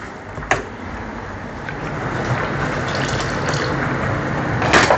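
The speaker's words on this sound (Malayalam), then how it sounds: "കുറച്ചും കൂടെ വെള്ളം വേണമെങ്കിൽ ഒഴിക്കാം." Water rinsed from a mixer jar is poured into a jackfruit-seed and raw-mango curry, a loud continuous close gush of liquid lasting throughout, with a few splashy bursts.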